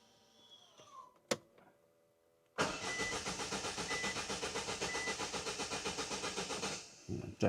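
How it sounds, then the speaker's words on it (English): A van engine cranks over repeatedly without firing, a fast steady rhythmic churn of the starter lasting several seconds, loud and close, after some faint clicks, ending abruptly with a couple of short bursts. "Right, let's give it a crank."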